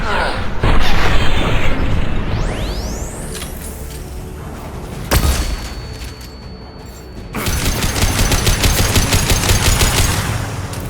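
Flashbang grenade and gunfire in Mass Effect 2, a loud sharp bang followed by a rising whine, then bursts of rapid automatic gunfire and clattering combat noise.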